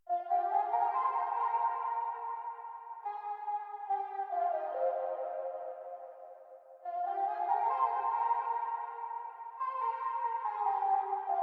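A bright synth plays a slow melody of sustained notes, each trailing off in echoing repeats and a wash of reverb.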